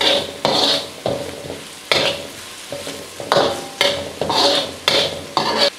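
Carrots and beans stir-fried over medium heat for chicken fried rice, a spatula scraping the pan in a steady run of about nine strokes over a constant close sizzle, with no talking.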